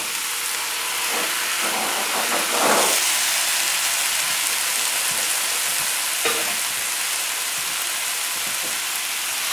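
Tomatoes frying in Creole sauce in a pan over a high flame, giving a continuous close sizzle and hiss with a few soft stirring bumps and no talking.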